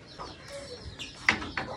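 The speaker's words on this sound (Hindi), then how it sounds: "ये देखें मुर्गियाँ, चूजे, टर्की बर्ड्स, ग्यूनाफल," Chickens, chicks and turkeys on a goat farm cluck and peep in short, scattered bursts, fairly close, with a sharper squawk near the end over a soft outdoor background.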